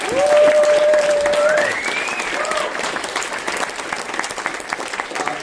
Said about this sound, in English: Give us a round of applause for everybody